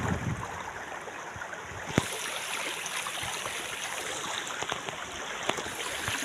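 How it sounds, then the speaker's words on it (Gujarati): A rain-swollen stream rushes past in a steady, full wash of flowing water, heard fairly close with a few small splashes and no voices. "આ પાણીનો પ્રવાહ પણ ઘણો વધ્યો છે"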